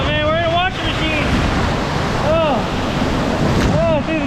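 Water rushes and churns loudly around riders on a twisting waterpark slide, a constant roaring wash with whooshing surges, while excited voices whoop and shout over it.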